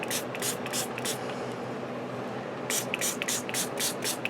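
A handheld spray bottle mists liquid onto printer paper in a series of short bursts, several quick sprays, a pause, then another rapid run of spritzes, close and fairly loud over a soft hiss.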